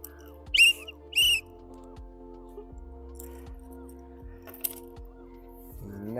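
Two short, shrill blasts from a toy whistle, the TVK party symbol of actor Vijay, sound close together near the start. Soft jingling of a key chain and a few light clicks follow, with a low steady hum underneath.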